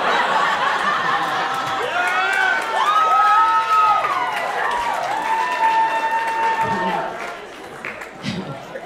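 A stand-up comedy crowd at the Laugh Factory in Chicago applauds and cheers, with whoops and voices rising over the clapping. The noise fades toward the end.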